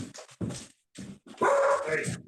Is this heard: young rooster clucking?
no